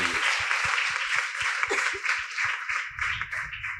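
A crowd claps steadily in applause at a priest's 22nd-anniversary celebration in the Eluru diocese, rhythmic and moderately loud, fading slightly toward the end.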